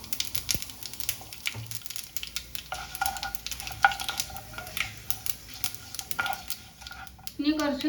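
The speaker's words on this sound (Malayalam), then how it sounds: "ഇതിലേക്ക് 1 ടീസ്പൂൺ കടുക് ഇട്ട് കൊടുക്കാം" Mustard seeds, urad dal and dried red chillies frying and spluttering in hot oil for a Kerala banana stem thoran, a steady close sizzle with scattered pops, stirring and utensil scrapes, growing livelier toward the end.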